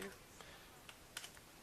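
Light tapping of keys on a computer keyboard while setting up a network in Cisco Packet Tracer, a few soft, scattered clicks, faint and close, over a quiet background hiss.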